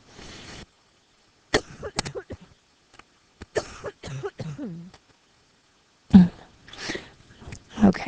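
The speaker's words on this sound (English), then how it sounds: "I am coughing." Person coughing in several short, scattered bursts between quiet pauses, some sounding like throat clearing, fairly close and moderately loud.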